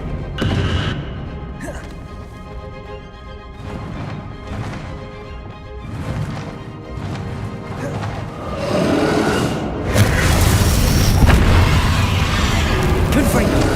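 Spell blasts from Bombarda and Confringo in the Hogwarts Legacy final boss battle against Ranrock: repeated loud crashing bursts over background music, building into a sustained roaring eruption toward the end.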